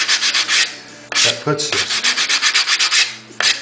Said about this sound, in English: Now I take my sanding block